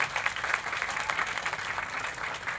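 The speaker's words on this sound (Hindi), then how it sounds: "एक बार जोरदार तालियां आप लोग अपने लिए बजा दीजिए" Applause from a protest crowd at Jantar Mantar, a steady, fairly distant wash of many hands clapping throughout, fairly faint, with no voice standing out.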